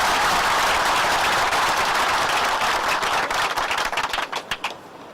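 Dense, sustained applause from an audience at a tourism federation gathering, loud and continuous for several seconds before thinning into scattered individual claps at the end.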